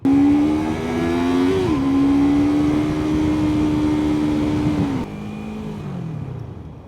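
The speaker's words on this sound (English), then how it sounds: "it is time for me to ride the bike" A Kove 321RR or Yamaha R3 sport motorcycle accelerating hard on a ride, the engine pitch climbing in a loud continuous drone, dipping briefly at a gear change, then dropping off as the throttle closes.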